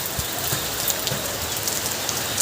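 Steady rain falls outdoors, a continuous dense hiss of drops with faint patter and no pauses, fairly close and even in level.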